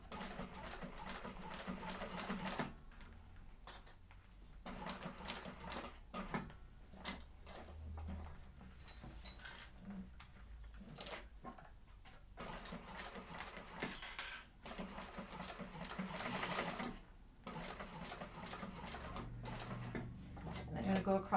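Domestic sewing machine top stitching a sling bag, a steady mechanical stitching rattle in bursts that stop and restart at pivots, with a person talking throughout.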